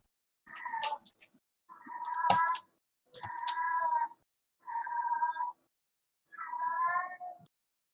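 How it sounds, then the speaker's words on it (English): A domestic cat meows five times in drawn-out, wavering calls with short pauses between them, close and clear against a quiet background. "That is my cat. He makes noises like that on occasion."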